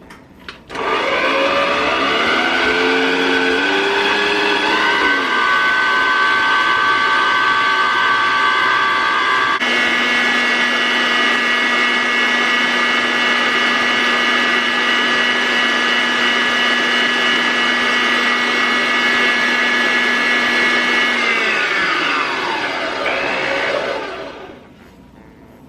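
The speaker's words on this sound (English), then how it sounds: "whip this together in my blender." A kitchen blender whips eggs and cake batter for an apple harvest pound cake, a loud steady motor whine that ramps up, shifts pitch once partway through, then holds before spinning down to silence.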